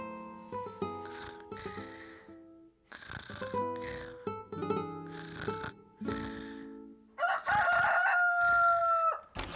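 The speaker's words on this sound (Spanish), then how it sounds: "Ese es el canto del gallo" A cartoon rooster crows in a rising, drawn-out call after a series of tonal musical notes, loud and close with no talking.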